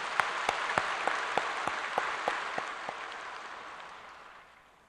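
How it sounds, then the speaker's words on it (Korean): A church congregation at a New Year dawn prayer service applauds its elders: a sustained round of dense clapping with a few sharper individual claps, loud at first and then gradually fading away. "우리 장로님들 일 더 잘하시라고 한번 박수 한번 하겠습니다."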